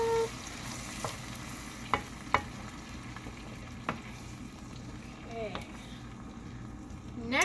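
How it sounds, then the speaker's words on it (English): Black beans and other ingredients for a quinoa enchilada casserole are mixed in a dish, giving soft scraping stirs and a few sharp clinks against a steady low kitchen hum. A voice speaks briefly. "Mix those up."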